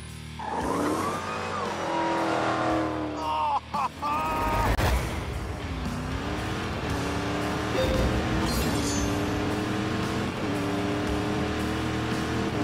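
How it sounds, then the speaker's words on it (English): A Dodge Challenger SRT Demon, a tuned-up Hellcat, howls steadily in a racing video game, its loud engine whine climbing and falling through gear changes, with tire squeal and a sharp burst partway through. "And it is whining Dodge Challenger Demon."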